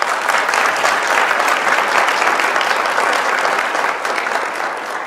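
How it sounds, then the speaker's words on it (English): An audience at a college address breaks into sustained applause, a loud, dense patter of many hands clapping evenly for several seconds before easing slightly. "That deserves a hand clap, I think."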